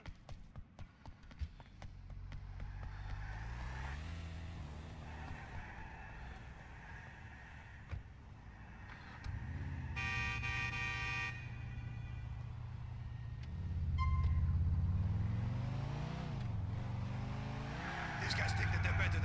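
Car in GTA IV idling, revving and pulling away with engine pitch rising and falling, a horn-like tone in the middle and a louder acceleration near the end, mixed with game dialogue.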